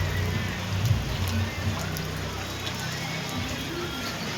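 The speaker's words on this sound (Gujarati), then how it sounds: "તમે જોઈ શકો છો, વરસાદ ચાલુ છે." Heavy rain pours down outdoors, a dense, even hiss of drops hitting surfaces that stays steady and fairly close throughout, with faint voices barely present underneath.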